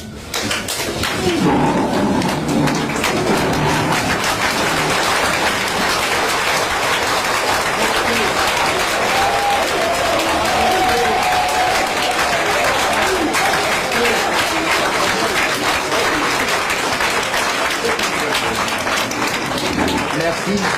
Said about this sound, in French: serait par une acclamation debout